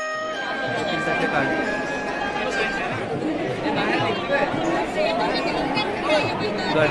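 Dense crowd of pilgrims at the Mahakaleshwar temple in Ujjain, a steady wash of overlapping chatter and babble that stays fairly loud and even throughout, with no single voice standing out.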